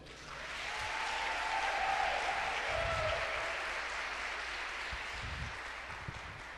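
A church congregation claps steadily and densely in a sustained wave of applause after a preacher's sermon, filling the space with broadband clapping that swells and holds, with a few low thumps and little speech.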